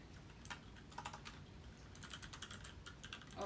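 Quick bursts of clacky keystrokes from a mechanical keyboard being typed on at home, irregular clusters of close, crisp clicks with short pauses between them and no talking.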